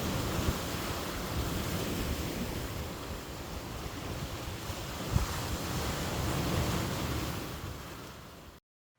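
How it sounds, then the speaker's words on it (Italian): Rough sea waves surge and wash in a constant broad roar at sea, with gusting wind buffeting the microphone and no voices, cutting off abruptly at the end. "la giornata tra le onde, con il mare mosso"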